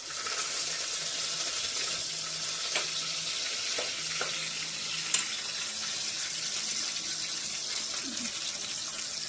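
Curry leaves hitting hot oil for a Marathi sweet mango dish, a loud dense hissing sizzle that holds steady throughout, with a few faint knocks and clinks underneath and no speech.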